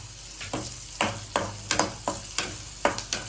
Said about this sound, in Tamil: அந்த கருவாடையும் போட்டு ஒரு 2 நிமிஷம் பெரட்டி விட்டு சிம்ல வச்சிருவோம்.